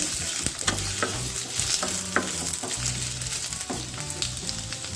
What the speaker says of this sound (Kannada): ಈಗ ಕಟ್ ಮಾಡ್ಕೊಂಡಿರೋ ಮೂರು ನೀರುಳ್ಳಿ ಸೇರಿಸ್ಕೊಳ್ಳೋಣ ಇದನ್ನು ನಾವು ಚೆನ್ನಾಗಿ ಫ್ರೈ ಮಾಡ್ಕೋಬೇಕು